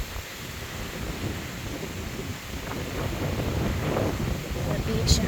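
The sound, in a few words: wind blowing on beach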